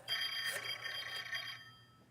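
An old-style telephone bell rings in a radio drama scene, a loud steady electric trill lasting about a second and a half before fading off.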